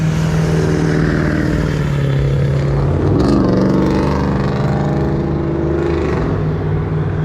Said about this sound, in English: Wait for these trucks to pass.